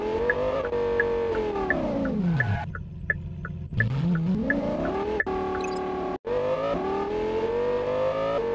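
A car in an Android 3D driving game, its synthetic engine note rising and falling in pitch as it speeds up and slows, with short electronic blips and a brief dropout near the end.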